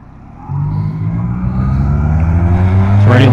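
A Honda Rebel 250 motorcycle pulls away in first gear, its engine rumble jumping up sharply and then climbing steadily in pitch and loudness as it revs, close and alone with no talk.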